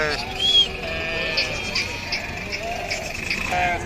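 Sheep and lambs at the Pebbair livestock market, a few wavering bleats rising out of a dense crowd murmur, with people talking around them in a busy outdoor setting.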